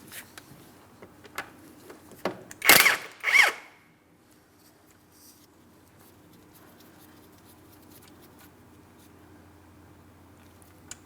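On a 2004-2008 Pontiac Grand Prix steering rack, a power tool spins off a 17mm mounting nut in two short, loud whirring bursts close by, with faint clinks before them and quiet afterward.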